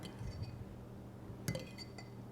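Egg and ingredients mixed in a glass bowl for Lady Grey einkorn scones, with a couple of soft clinks early and a sharper glassy knock midway over quiet background.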